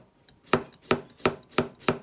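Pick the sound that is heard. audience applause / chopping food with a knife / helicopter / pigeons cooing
chopping food with a knife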